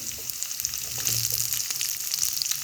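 Carrot, potato and bottle gourd pieces tipped into a hot pan for sambar, a soft sizzle and faint frying hiss rising as they land, quiet and close, no talk.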